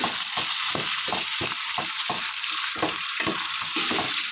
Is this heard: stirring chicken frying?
yes